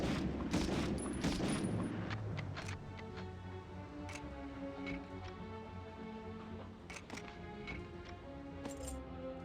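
Enemy gunfire in the 1999 Medal of Honor video game, a dense burst of rapid shots early on, then scattered sharp reports over a steady droning game background.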